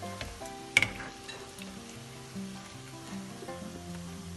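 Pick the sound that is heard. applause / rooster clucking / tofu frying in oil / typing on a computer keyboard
tofu frying in oil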